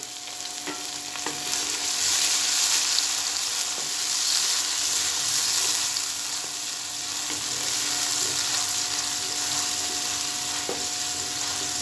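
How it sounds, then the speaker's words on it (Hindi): Ginger and garlic fry with onion in hot oil in a pan. A steady, close sizzle continues throughout, with light scraping from stirring. "अदरक लहसुन को हम भून लेंगे।"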